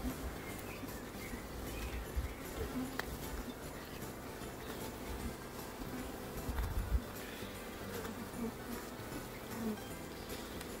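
Honeybees hum around an opened beehive during a May inspection, a continuous dense buzzing swarm close by with a few soft knocks from handling the hive.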